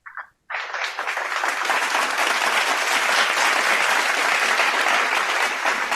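A canned applause effect fires from a soundboard button on a wrestling podcast, a sustained loud burst of clapping and cheering after a short electronic blip.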